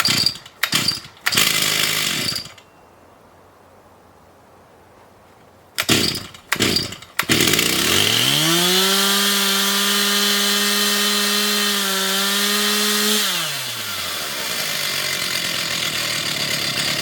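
A chainsaw engine with its idle just turned up a half turn sputters through a few short bursts, pauses, then catches and runs steadily with a loud, slightly wavering drone before the revs drop back.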